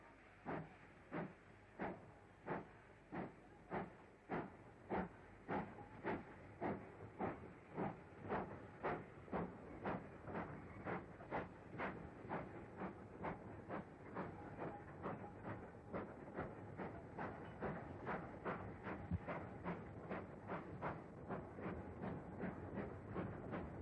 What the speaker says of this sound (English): another HPS class engine with a train from Lalgola to Calcutta pulls smartly away